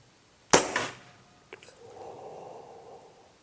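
An air rifle shot: one sharp, loud report followed by a quick metallic tick of the pellet striking a small target, then a soft low rumble of ambient noise.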